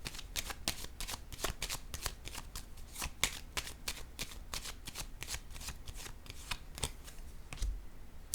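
A deck of tarot-style reading cards is shuffled by hand in rapid, continuous riffles, each flick crisp and close, steady for several seconds before the deck settles at the end.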